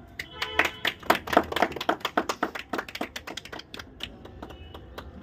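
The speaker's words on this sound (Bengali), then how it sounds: "হাততালি।" People clap their hands at an Independence Day celebration held by Naihati Rangasena in Naihati, a burst of sharp, irregular claps that starts near and loud and then thins out into scattered claps.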